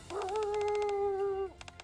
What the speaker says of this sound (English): The sound of howling off in the far distance causes Gray to hunker low to the ground